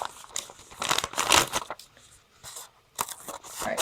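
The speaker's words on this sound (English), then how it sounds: "I start cutting it along that seam, that bottom seam there." Scissors cut along the bottom seam of a paper lunch bag, with bursts of crisp snipping and crinkling that come and go in uneven clusters. The sound is close and fairly loud, and no one speaks.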